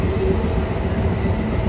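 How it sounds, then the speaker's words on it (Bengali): A train approaching a rural station near Koikhali in the Sundarbans region south of Kolkata, a steady loud low rumble of rail cars rolling in without a break, no voices. "তো ট্রেন আসছে একটু বাদেই"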